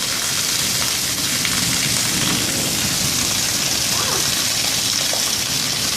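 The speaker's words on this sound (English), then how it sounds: "Look at all the rain coming off the roof." Heavy summer rain pours off a house roof in Corona during a downpour that floods the front yard. It makes a loud, dense, steady hiss and splash that never lets up.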